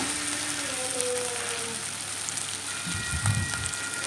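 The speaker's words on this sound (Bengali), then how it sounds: "এটাকে ভালো করে সুন্দর করে মশলার সঙ্গে ভালো করে ভাজতে হবে পেঁয়াজটাকে আমরা পুরো ব্রাউন ব্রাউন করে ভাজবো" Onion paste fries with spices in a pan, giving a dense, even crackle like light rain that holds close and steady, with faint tonal hum in the background.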